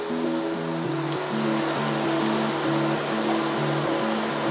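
Mushrooms frying in a pan with cumin and coriander paste give a steady, bright sizzle that runs throughout, mixed with a stepped melodic music track.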